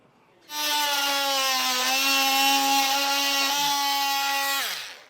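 A power tool cutting the radiator support of a 2019 Chevrolet Traverse while a Blue Ox base plate is fitted, one sustained high-pitched whine of about four seconds that starts abruptly and winds down at the end, loud and close.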